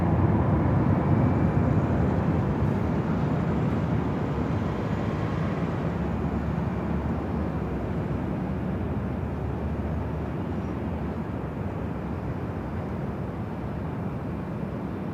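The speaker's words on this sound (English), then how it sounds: "Also have ANA, the Dreamliner, heading back to Tokyo Narita, heading up here for a north side takeoff" An ANA Boeing 787 Dreamliner bound for Tokyo Narita takes off from runway 24 Left at LAX. A steady, broad jet roar holds at a fairly loud level throughout and eases off only slightly.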